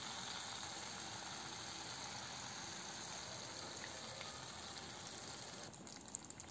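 Tamarind water pours into a pan of okra kara kuzhambu, a steady gushing splash with faint sizzling that ends with a few small clatters.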